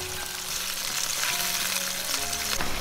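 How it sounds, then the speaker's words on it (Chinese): Pan-fried tofu goes into a hot pan with garlic, scallops, shiitake mushrooms and seasoned mushroom broth, setting off a loud, steady sizzle with faint stirring and scraping throughout. "再把煎好的豆腐放进来"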